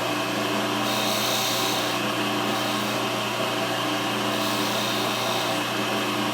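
Wood lathe spinning a wine bottle stopper blank while a 3/8" spindle gouge cuts beads, a steady close whine and hiss that continues evenly throughout.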